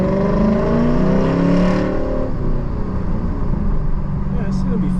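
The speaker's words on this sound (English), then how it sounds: "All right, test track time. Up to 45 miles an hour is good and legal." A Toyota 4Runner or Lexus LC500 auction car on a test track, its engine rising and shifting as it accelerates at close range, with a voice talking over it.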